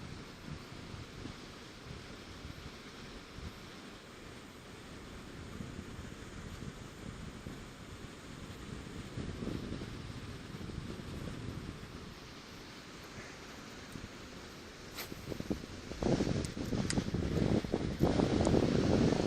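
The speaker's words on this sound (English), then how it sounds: "Now I've got the wind coming straight at me from that direction" Wind blows across a riverbank, buffeting the microphone with a steady rushing roar that grows louder and gustier toward the end.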